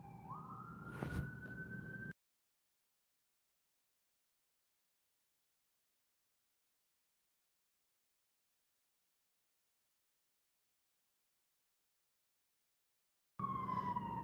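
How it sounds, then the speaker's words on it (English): A wailing siren sweeps in pitch for about two seconds, long silence follows, then the siren returns briefly at the very end. "I'm muting it because of sirens."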